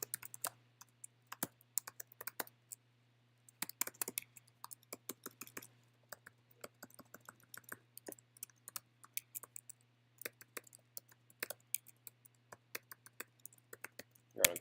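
Quiet, close typing on a computer keyboard, with irregular bursts of rapid key clicks separated by short pauses, over a faint low electrical hum.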